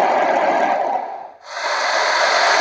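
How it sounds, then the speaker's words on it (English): A desert nature soundscape played at a Xiaomi MIUI 10 launch event, a steady wind-like hiss heard alone that dips briefly in the middle before returning at full level. "Sound of the desert"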